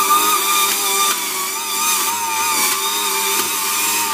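A juicer machine straining on stringy leafy greens, a loud, steady motor whine with grinding undertones and slight surges, close and continuous throughout.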